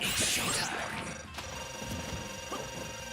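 A Final Smash attack in Super Smash Bros. Ultimate, a dense crashing burst of game effects that stays loud and busy throughout, with sweeping high tones and thuds underneath and some chatter in the mix.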